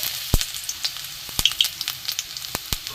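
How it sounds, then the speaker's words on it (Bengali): Chopped garlic dropped into hot oil for a spicy Bombay duck chorchori, a soft close sizzle punctuated by several sharp crackling pops at irregular intervals. "তেল গরম হয়ে গেছে এখানে আমি রসুন কুচি দিয়ে দেবো"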